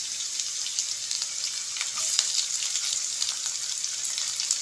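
Cloves and cinnamon frying in oil with ginger and garlic for a beef pickle, a continuous dense sizzle with faint crackles, close and steady with no talk.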